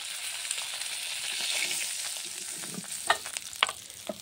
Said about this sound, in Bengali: এই যে মাছগুলো সুন্দর লাল লাল করে ভেজে নিয়েছি